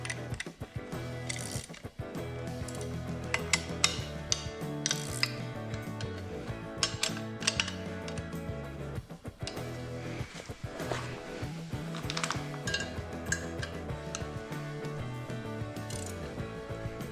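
A 9/16 wrench ratchets bolts tight on a front end loader for a John Deere 425/445/455 tractor, with quiet repeated clicking strokes in irregular bursts that go on throughout and no talking.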